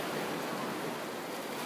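Ocean surf at Boston Beach in Portland, Jamaica, a steady, dense wash of breaking waves that fills the whole stretch without pause or voices.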